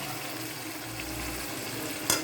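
Potato pieces sizzle steadily in a pan of beef curry while being stirred, a continuous close frying hiss with a brief scrape near the end.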